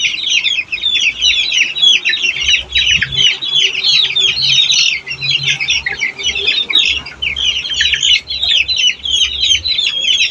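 Bangkok chicks cluck and chirp continuously while they are fed, a dense, close chorus of high peeping calls with low bumps and rustling underneath.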